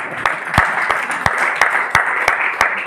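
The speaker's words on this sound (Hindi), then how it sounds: "देखिए, ताली बजाने से 3-4 को फायदा है, आप लोग को पता है।" An audience at a business meeting claps hands together in a slow, steady, synchronized rhythm, loud and close, about eight sharp claps with a continuous crowd clapping bed underneath.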